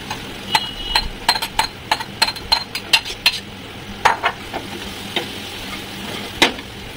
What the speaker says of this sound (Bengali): মশলাটাকে দিয়ে আমি মাছটাকে ভালো করে কষিয়ে নিলাম 10 মিনিট।